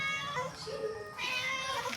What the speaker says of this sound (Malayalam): ഈ പൂച്ച ആരോ നല്ലോണം നോക്കുന്ന പൂച്ചയാണ്